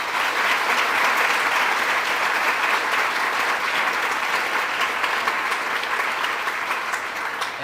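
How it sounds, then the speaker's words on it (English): A roomful of people at an inauguration ceremony applauds Judge Wilson, a dense, even clapping that holds strong for several seconds and tapers slightly toward the end. "So can we get a round of applause for him?"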